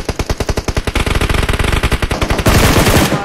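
Rapid automatic gunfire from the PUBG Mobile game, loud and close, with sharp bursts of evenly spaced shots building into a denser, continuous volley near the end, with no talk over it.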